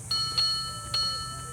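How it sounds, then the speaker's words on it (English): Electronic bell chime from the handlebar button of an Urtopia Carbon 1 ST e-bike, three short bright dings in quick succession, close and moderately loud over a quiet background. "when you tap it, it's a bell"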